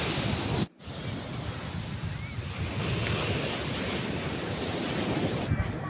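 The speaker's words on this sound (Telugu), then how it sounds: "కేరళ కొల్లం బీచ్ అంటారంట దీన్ని, గాంధీ పార్క్ బీచ్ కూడా చెప్పచ్చు" Ocean surf at Kollam beach in Kerala washes continuously as a dense, loud broadband roar, mixed with wind buffeting the microphone and a brief dropout near the start.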